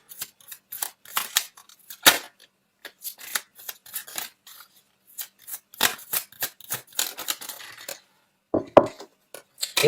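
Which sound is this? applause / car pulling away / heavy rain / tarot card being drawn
tarot card being drawn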